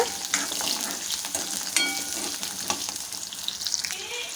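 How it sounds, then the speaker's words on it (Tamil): Small onions and garlic sautéing in hot oil, a steady close sizzle broken by scraping stir strokes and light clinks of a spoon against the pan. "இந்த வெங்காயம் பூண்டு வந்து அந்த எண்ணெயிலே வந்து ஒரு ரெண்டு நிமிஷம் நல்லா வதங்கினதுக்கப்புறம்"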